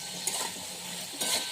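Eggplant fries in oil in a pan with a soft, steady sizzle, broken twice by sharp clinks of a utensil stirring against the pan.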